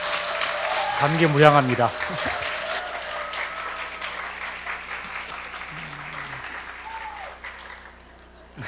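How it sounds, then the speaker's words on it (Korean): A church congregation claps to welcome a pastor at a mothers' prayer meeting, steady applause running under a voice speaking briefly, then fading toward the end. "박수로 뜨겁게 환영하며 김신 목사님 단위로 모시겠습니다."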